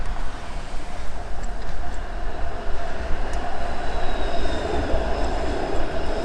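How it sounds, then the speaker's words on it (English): A Toronto streetcar rolls past on Queen Street, a steady loud rumble of wheels on rail with faint high squeals, heard up close from a bike amid traffic noise. "Here comes the streetcar, or the tram to my English viewers."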